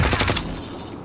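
Rapid automatic gunfire in Call of Duty: Modern Warfare, a quick burst of several close, loud shots in about the first half-second, then a fading tail.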